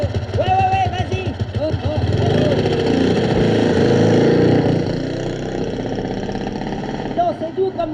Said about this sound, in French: c'est doux comme moteur, on l'entend à peine